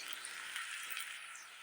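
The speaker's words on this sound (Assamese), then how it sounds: "এইখিনি মই আৰু 1 মিনিট সময় ভাজি ল'ম" Dry ground spices (coriander, cumin, garam masala and red chili powders) frying in a pan, a steady bright sizzle with soft crackling, close and continuous with no talking.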